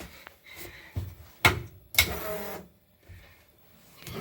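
A Dodge Daytona stock car's ignition switches on with a couple of sharp clicks, then a short whirring buzz like a fuel pump priming, fairly quiet and close, with no talking.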